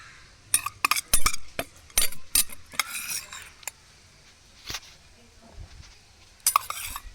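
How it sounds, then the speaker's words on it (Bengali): Two spoonfuls of chopped onion go into a pan for a village-style aloo paratha filling, with sharp spoon clinks against the metal, scraping and stirring, and a faint sizzle between the louder knocks. "প্রথমে আমি পেঁয়াজ দিয়ে দিচ্ছি।"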